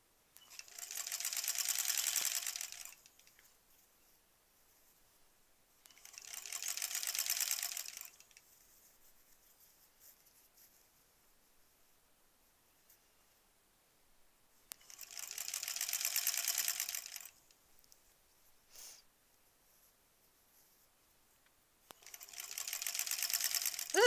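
A sewing machine stitches a quilt block seam for a Granny Squares quilt in four separate runs of steady, rapid whirring a few seconds each, with quiet pauses between and no talk.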